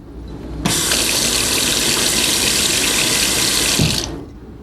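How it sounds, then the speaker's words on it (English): A kitchen sink faucet is turned on and runs in a loud, steady hiss-like stream for about three seconds, then shuts off abruptly, with no voices. "you don't need strong hands to turn on the faucet"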